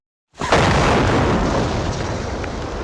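A sudden heavy landmine explosion erupts after a moment of silence, then a loud rumbling roar that sustains and slowly decays.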